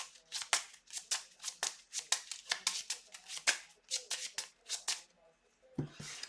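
A deck of game cards being shuffled by hand during a card game, a steady run of crisp riffling bursts close up, ending with a brief softer shuffle sound.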